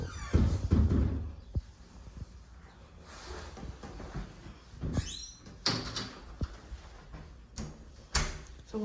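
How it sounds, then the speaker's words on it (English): An apartment building entry door is opened and passed through, with a series of clunks, latch clicks and thuds, some close and loud, spaced irregularly between quieter shuffling. "And then you have another door here to go through."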